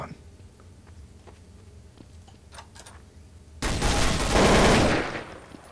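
Burst of gunfire in Counter-Strike: Source, a loud dense volley erupting after a few quiet seconds of faint game ambience and sustaining for about two seconds before tapering.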